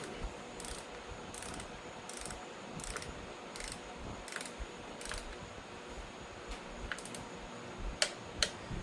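An Indian Challenger or Pursuit motorcycle's flywheel fasteners are tightened with an inch-pound torque wrench in a crisscross pattern, giving a steady run of sharp ratcheting clicks in bursts, close and alone.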